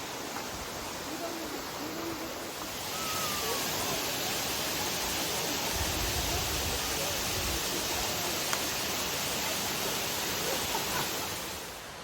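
A waterfall at the end of a hiking trail gives a steady, close, broadband roar that swells after a few seconds and then holds without pause.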